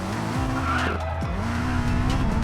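A car drifts in the Racing Master mobile racing game, engine droning steadily with shifting pitch while tires squeal and skid through the slide, loud and close with no talking.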